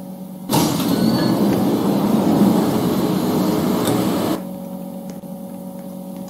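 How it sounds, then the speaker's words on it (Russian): An automatic subway train in the Roblox game Robloxian Automatic Subway 2 roars loudly through a station for about four seconds with a broad rumbling hiss, then drops back to a quieter steady hum. "Так громко и вообще открывает дверь вот этот поезд."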